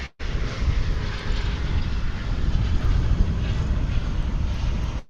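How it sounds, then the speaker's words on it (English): An American Eagle CRJ 900 regional jet arriving from El Paso flies near DFW Airport, its engine roar steady and broadband for about five seconds before cutting off, with no talking. "This flight's coming in from El Paso in far west Texas. It's American Eagle CRJ 900"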